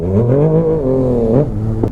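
Yamaha MT-07 motorcycle engine revving with a steady, harmonic drone that rises and dips in pitch, loud and close, sustained for about two seconds before easing off.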